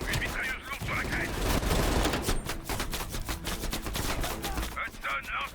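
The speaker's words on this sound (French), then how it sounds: "Attention, une mitrailleuse lourde sur la crête." Heavy machine gun fire in the video game Call of Duty Cold War, dense rapid bursts rattling continuously with distant booms and voices speaking in the game.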